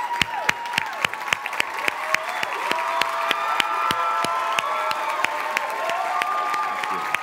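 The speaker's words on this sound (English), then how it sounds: "Let's give Father Pfleger a round of applause." An audience claps steadily at a forum opening in Chicago, with sharp individual claps standing out over a crowd's murmur and some cheering, sustained throughout.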